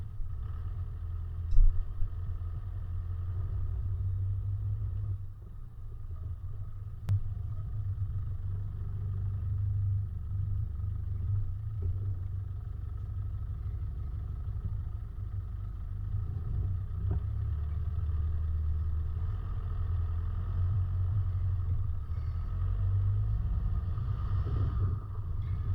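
A 4x4 crawls slowly over a slippery rock track in the rain on low tyre pressure, its engine holding a low, steady rumble throughout with occasional faint clunks, fairly quiet and without talk.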